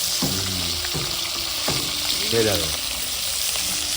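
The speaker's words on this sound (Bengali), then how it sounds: "একদিকে মাছ ভাজা হচ্ছে" Bata fish sizzle steadily in a hot frying pan, a dense continuous crackle with a few brief tonal sounds like a faint voice rising over it.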